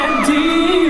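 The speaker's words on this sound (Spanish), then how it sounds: "los gritos son impresionantes" A concert crowd screams during a performance at the 2018 Fuzhou concert, a loud, sustained roar under a rising held tone that lasts the whole short stretch.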